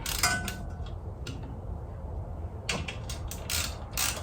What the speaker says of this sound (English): So let's get the lower one tightened up.